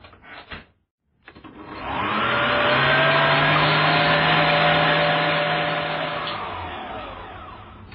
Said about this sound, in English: So we've got our 3 egg whites. Pop them into a bowl here and whisk them up.